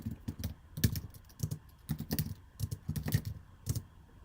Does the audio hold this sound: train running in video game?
no